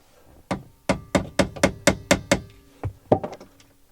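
A part on a VW Golf GTD TDI being tapped loose, about a dozen sharp close knocks in a quick even series, then a short pause and a few more hits.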